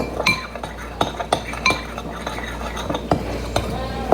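A metal spoon stirs taco seasoning into food in a pan, making a string of sharp clinks and scrapes against the cookware in an uneven rhythm, close and fairly loud.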